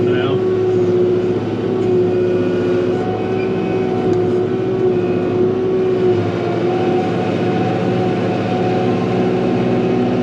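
Kubota L6060 tractor engine hauling gravel, a steady droning hum with a strong tonal whine held throughout, close and loud, with someone talking over it.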